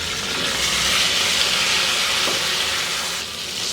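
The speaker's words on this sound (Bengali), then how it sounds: "এগুলা দিয়ে এখন সিমটাকে আমি ভেজে নেবো" Flat beans frying in hot oil in a pan, a loud, close, continuous sizzling hiss that holds steady and eases slightly at the end, with no talking.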